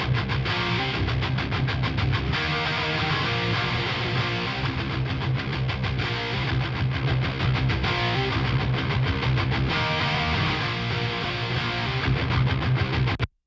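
A guitar bus mix played with no multiband saturator, heard as a dense, loud, continuous wall of distorted guitars with a steady driving rhythm and no talking.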